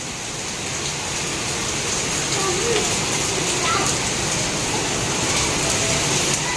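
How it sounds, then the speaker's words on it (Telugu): Heavy rain pours down in a loud, steady hiss that stays constant throughout, with no breaks. "వర్షం అయితే స్టార్ట్ అయిపోయింది ఫుల్ వర్షం అయితే పడుతుంది"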